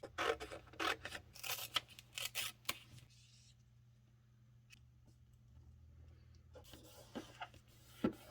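Scissors snip through paper with a run of quick, close, crisp cuts at the start and a few more near the end, set against a quiet gap of faint handling noise.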